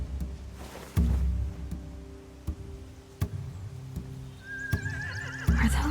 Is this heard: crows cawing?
no